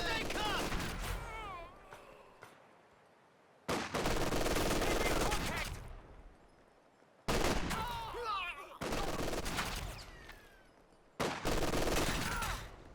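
Infantry small-arms fire in the strategy game Company of Heroes 2 comes in loud, dense bursts of rapid rifle and machine-gun shots separated by short pauses, with a voice talking over parts of it.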